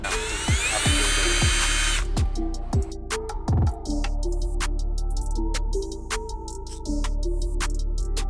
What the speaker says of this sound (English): you're gonna have to drill out the rivets